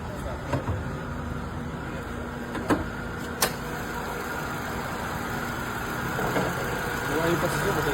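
A car engine idles steadily after overheating, a low continuous hum running through the whole stretch, with a few sharp clicks and taps near the start and the idle growing slightly louder toward the end.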